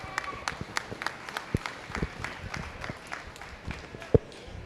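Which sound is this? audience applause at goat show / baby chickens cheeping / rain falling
audience applause at goat show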